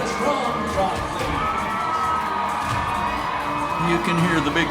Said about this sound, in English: You can hear the big crowd cheering them on as they go into the strong trot.